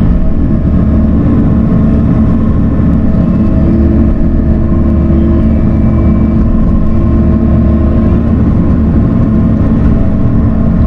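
A skid steer fitted with a dirt bucket working in a junkyard, its engine droning loud and steady throughout with a constant low rumble and no talk.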